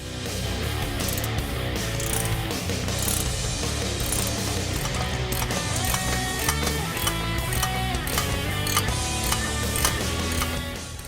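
A ratchet removes 13 mm flange bolts on a Ford F-150 EcoBoost exhaust, clicking rapidly and continuously for about eleven seconds, close-up and loud with light metallic clatter and no talking.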